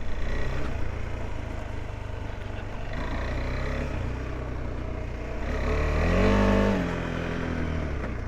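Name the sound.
KTM adventure motorcycle accelerating off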